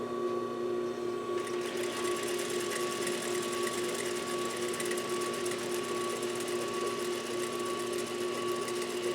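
A Juki DDL 8300N industrial sewing machine runs at full speed, a loud, continuous, even mechanical whir with a steady hum and rapid needle chatter, close and unbroken for the whole stretch.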